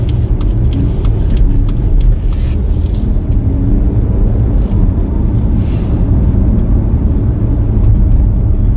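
A BMW M2 with a dual-clutch gearbox, driving and picking up speed, heard from the cabin as a loud, steady, low engine rumble blended with road noise, with no speech.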